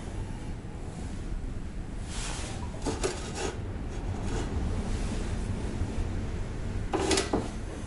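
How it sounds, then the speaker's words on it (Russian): Wind blowing down into a stove chimney and causing backdraft, a continuous low rumbling roar with broad gusty swells and a few brief brighter rushes, moderately loud and with no voices. "ветер задувает в трубу"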